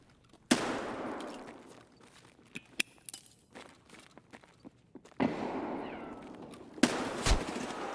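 Sharp gunfire from the video game Escape from Tarkov: a loud close shot opens, scattered faint clicks and steps follow, then two more loud reports with noisy tails, the last a double crack.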